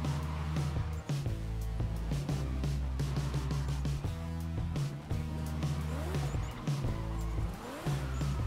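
Formula Drift Toyota Supra drifting in Forza Horizon, its engine revving loud and steady with gear changes and squealing tires throughout, a continuous close racing game drone.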